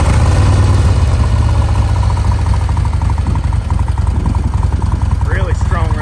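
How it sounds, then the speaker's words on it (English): A 2017 Harley-Davidson Ultra Limited with a built, high-compression engine runs with a steady, loud low rumble throughout, a few faint sounds near the end riding over the drone. "This engine's pretty high compression. It can take a little bit to turn it over, so it'll sound like it's hesitating"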